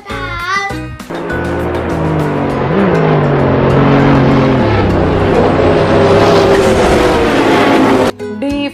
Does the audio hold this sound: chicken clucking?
no